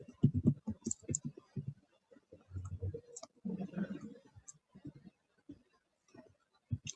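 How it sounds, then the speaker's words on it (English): Fingers type on a computer keyboard in uneven bursts of soft clicks, mixed with a person talking close by. "So while I'm typing in here,"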